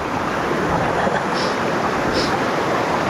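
Rainwater rushes through a village stream during a heavy monsoon downpour, a steady broadband roar of flowing water with no pauses and no voices.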